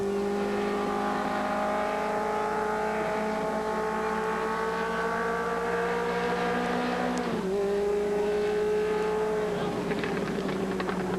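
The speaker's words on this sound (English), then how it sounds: "He takes down the legend car feature event." Legend cars racing at Seekonk Speedway, engines droning loud and sustained with a pitch drop as cars pass near, then rising again as they accelerate away.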